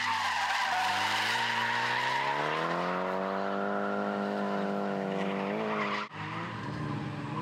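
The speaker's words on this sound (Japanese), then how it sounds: "船津を助手席に乗せ、ハンドルさばき、シフトワークを見せるダイゴ。" A drifting car with its tires squealing in a long, loud, steady skid, shown during a passenger-seat lesson on steering and shifting technique; the engine note rises and falls beneath the squeal, which breaks off sharply near the end.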